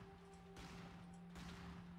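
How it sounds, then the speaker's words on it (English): Main cannon fire from a mech in the video game Brigador: two heavy broadband blasts about a second apart over a steady engine-like hum, no voices. "let's test out our main cannon"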